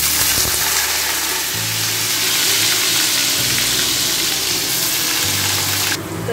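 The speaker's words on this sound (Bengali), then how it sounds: "কড়াইতে দিয়ে দিচ্ছি বেশ খানিকটা সর্ষের তেল, তার মধ্যে দেবো গোটা জিরে ফোড়ন, দেবো এর মধ্যে আলুগুলো" Potatoes with whole cumin seeds frying in a good amount of mustard oil in a kadai, a loud dense steady sizzle, close up, with a low background hum that shifts a few times.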